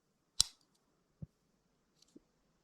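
A few small metallic clicks and snaps as the scissors of a Victorinox Huntsman 1.3713 pocketknife are opened, spaced apart in otherwise quiet surroundings.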